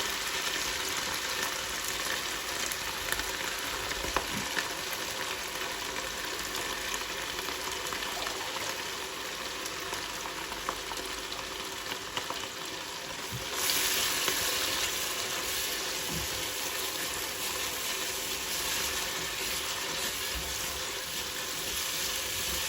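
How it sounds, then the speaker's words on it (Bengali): A masala paste of raisins, nuts, poppy seeds and shahi cumin fries for a shahi chicken roast, a low, steady hiss with occasional stirring scrapes, growing slightly brighter partway through; no one speaks. "এই পেস্টটা দেওয়ার পরে খুব ঘন ঘন মশলাটা নাড়তে থাকবেন, না হলে মশলাটা নিচে পুড়ে যাবে"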